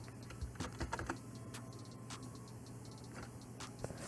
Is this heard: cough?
no